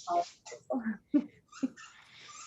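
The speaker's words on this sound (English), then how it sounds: "my dogs are barking in the background too" Dogs in a home setting give a few short yips and whimpers, close and irregular, heard alone without talk.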